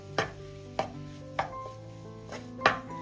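Mashed potato filling is mixed with chopped coriander leaves for a Ramadan iftar snack, heard as five sharp, ringing knocks of a utensil against the bowl, spaced unevenly in a quiet kitchen.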